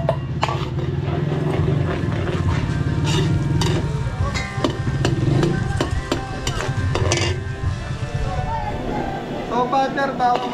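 Garlic sizzles in butter while a spoon scrapes and stirs in a pan for cream of mushroom soup in a catering kitchen in Santa Maria, Bulacan, a steady frying hiss and clatter heard under someone talking.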